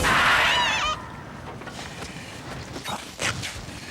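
A cartoonish duck-like quack opens in a short burst of honking, wobbling calls from a 16-bit Power Rangers SNES game, then drops to quieter scattered game noises and faint creaks.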